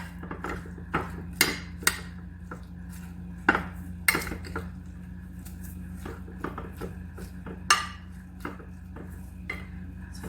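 Salad being tossed and mixed in a bowl, light clinks and taps of a utensil on the dish in an irregular rhythm, close and fairly quiet over a steady low hum.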